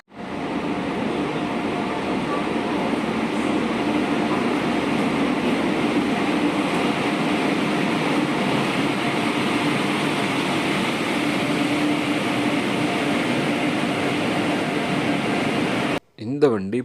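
The Semmozhi Express passenger train runs at night near Coimbatore, its steady rolling rumble and hum holding loud and constant from inside the carriage before cutting off near the end.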